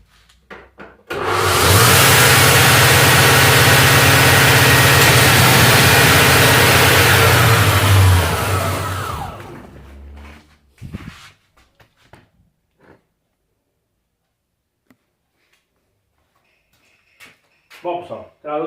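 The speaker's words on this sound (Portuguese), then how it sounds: "Estou aqui com um alternador de um Gol, fazendo bastante barulho, ó." A noisy Bosch 90 amp alternator on a running Volkswagen Gol engine gives a loud, steady whirring drone for about eight seconds, then winds down. Faint clicks and handling noises follow, and someone speaks afterward.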